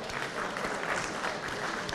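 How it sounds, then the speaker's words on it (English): An audience at a film event applauds, sustained crowd clapping with a dense even texture throughout, no one speaking over it. "So let's give the team a huge round of applause."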